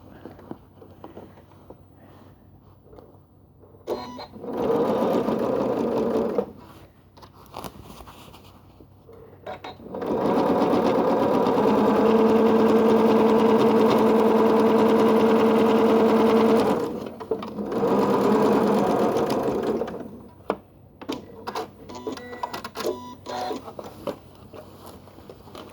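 Sewing machine stitching down the side of a tote bag made from quilted squares, running in three steady whirring bursts, the longest in the middle, with quieter handling clicks and rustles between them and no talking.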